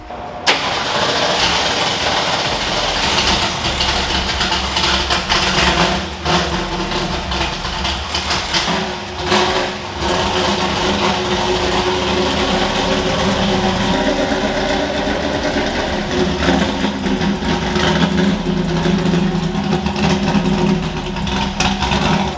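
A 1986 Ford F250 pickup engine cranks over and fires, then settles into a steady, loud idle that runs on without pause and with no speech.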